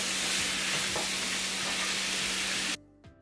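Seasoned ground beef frying and being stirred in a pan, a steady loud sizzle with faint scraping, cutting off abruptly near the end.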